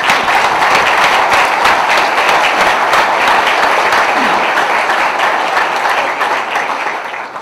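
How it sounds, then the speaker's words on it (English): Sustained round of applause from an audience at an economic development corporation's annual meeting, loud and dense across the whole clip, tapering slightly toward the end, with no talking over it. "Please join me in giving Jim a big round of applause."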